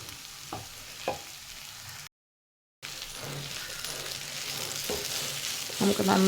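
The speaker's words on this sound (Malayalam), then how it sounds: "നമുക്ക് നന്നായിട്ട് ഇളക്കി യോജിപ്പിക്കണം." Snake gourd thoran stirred in a hot pan with a ground coconut mixture gives a steady soft sizzle and intermittent scraping and tapping of a spoon, broken by a short silent gap.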